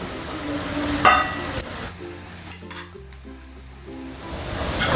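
Masala tipped into golden fried onions over a low flame, with sharp clinks of a utensil on the pan, then steady sizzling and stirring scrapes, and a faint tonal hum in the background.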